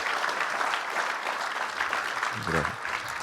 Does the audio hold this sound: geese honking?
no